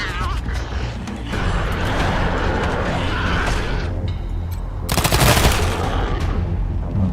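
Gunfire in Wasteland 3, a sustained rattle of shots and mechanical clatter layered over busy game sound, swelling into a loud burst near the end.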